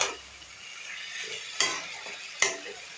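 Drumstick flowers fry in a pan while being stirred, a continuous bright sizzle broken by two sharp utensil knocks against the pan, close and clear with no talking.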